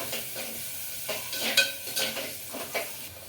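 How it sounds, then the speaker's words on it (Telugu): Onions with green chilies fry in a clay pot until golden, a close, steady sizzle punctuated by several sharp scrapes and knocks of a stirring utensil, with no one talking. "ఇవి బాగా ఆనియన్స్ బాగా గోల్డెన్ కలర్ వచ్చేవరకు ఫ్రై చేసుకోవాలండి"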